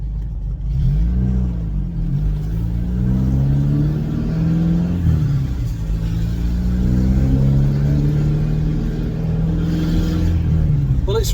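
A Ford Cortina engine breathes through a P100 exhaust, revving in a steady, throaty loud drone with rising and falling swells over about ten seconds, heard up close.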